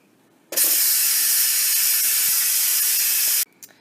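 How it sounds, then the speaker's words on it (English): Steam bursts from an Instant Pot pressure cooker on quick release after cooking mac and cheese, a loud, steady, close hiss that starts abruptly, holds for about three seconds, then cuts off sharply. "Just let the steam out right away rather than letting it do its own thing."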